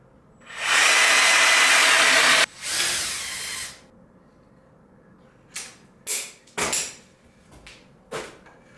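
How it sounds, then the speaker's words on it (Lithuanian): A power drill bores into wood, then a screw is driven through it into expanded clay wall, during studio fit-out work: a long loud whine of about two seconds, a shorter burst, then several brief clicks and handling knocks. "reikia pragręžti medį ir tada sukti tą varžtą tiesiai keramzitą"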